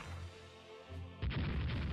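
Naval guns firing in the warship game Rule The Waves: a low rumbling boom builds, then heavy booming salvos crash in loud and close during the last second.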